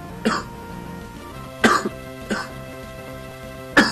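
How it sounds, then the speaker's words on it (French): Four separate coughs from a sick man, close and sharp, spaced irregularly over a few seconds against a steady background of game music. "j'ai envie de tousser, donc je vais tousser"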